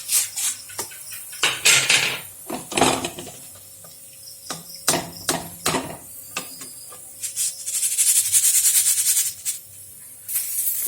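Fried sweets being lifted out of a pan with a metal utensil, several sharp scrapes and clinks against the cookware in irregular bursts, close and fairly loud, with a steadier hiss of hot oil later.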